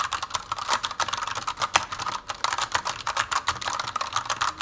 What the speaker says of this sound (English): Cherry MX Brown are tactile switches characterized by noticeable feedback.